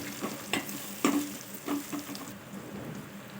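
A spoon scrapes and stirs chili powder through frying masala for egg biryani in a pan, several distinct stirring strokes over a soft continuous sizzle, with no voices.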